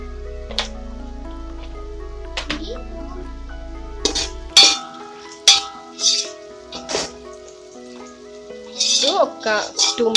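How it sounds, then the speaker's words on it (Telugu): Metal lid set onto a cooking pot of chicken biryani, with sharp clinks and clatters of metal on metal close by, amid a low hum and a few other kitchen knocks. "ఒక 2 మినిట్స్ మూత పెడదాము"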